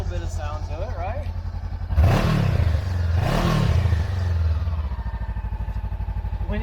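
Sport motorcycle exhaust at idle, then revved twice with rising and falling swells before settling back to a steady, throbbing idle, loud and close, with people talking over it.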